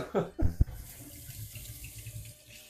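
A kitchen water tap runs while hands are washed, a soft steady stream with a few splashy bursts at the start, close and fairly quiet.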